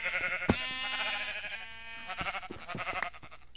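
Sheep in the Minecraft video game bleat several times in quick succession, nasal wavering cries close up and clear, with a few soft thumps mixed in and no talking.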